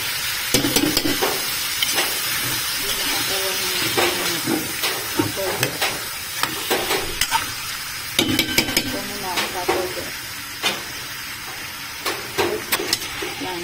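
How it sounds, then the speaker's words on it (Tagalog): Repeated scraping and clinking of a utensil stirring food in a pot until browned, for arroz caldo, with sizzling underneath and a voice speaking now and then in Filipino. "Haluin natin siya hanggang mag-brown."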